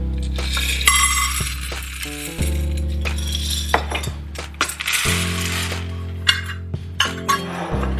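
Dry beans poured into a measuring cup in a home kitchen, a dense rattling cascade of small hard clicks in several bursts, close and fairly loud, with no talking.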